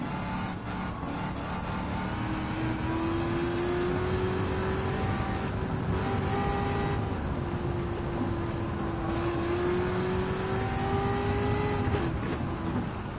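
Race car engines in Gran Turismo 7, among them a Dodge Viper and a 1963 second-generation Corvette, with a steady droning roar and rising, gear-shifting engine pitch sweeps, loud and continuous with no talking.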